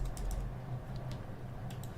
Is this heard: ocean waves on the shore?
no